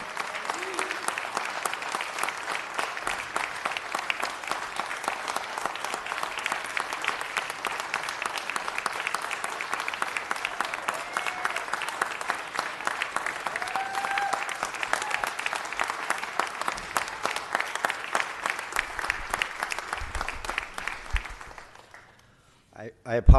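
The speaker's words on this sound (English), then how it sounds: "Give him another round of applause." Sustained applause from an audience at a city council meeting welcoming a new councilman, dense steady clapping for about twenty seconds that fades out abruptly at the end.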